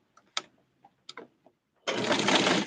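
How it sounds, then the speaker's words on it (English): A sewing machine stitches along the side of a doll's fabric tube-top bathing suit, a steady close whirring run of about a second after a few small taps and clicks of handling the fabric. "we're just going to sew along."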